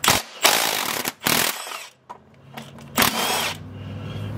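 A wrench loosening an 18 mm nut on the rear control arm of a 2005-2010 Jeep Grand Cherokee, in several loud, harsh rattling bursts of about half a second each, separated by brief pauses and quieter mechanical noise.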